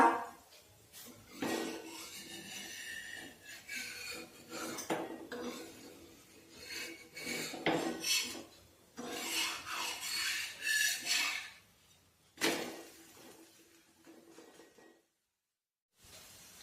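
A spatula scrapes and flips gram flour dhirde pancakes in a pan, giving a run of rough, rasping scrapes and light knocks that come in uneven bursts and then briefly fall silent near the end, with no voices.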